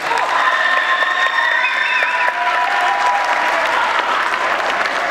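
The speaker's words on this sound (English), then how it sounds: "Lame applause for Pastor Mike." An audience applauds a pastor named Mike at a session, with steady crowd clapping filling the room throughout at close, even loudness, alone and without talk.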